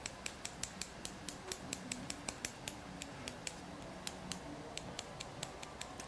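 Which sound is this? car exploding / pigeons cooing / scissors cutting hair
scissors cutting hair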